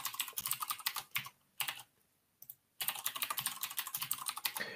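Bursts of quick, clicky keystrokes on a computer keyboard as a username and password are typed, broken by two short pauses, then a final rapid run of key presses, close and crisp with no talking.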